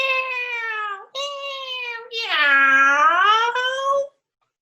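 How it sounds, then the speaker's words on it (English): A cat gives several drawn-out meows, the last one long and wavering like a yowl, loud and close against silence, as a Halloween sound effect. "Did you hear that cat?"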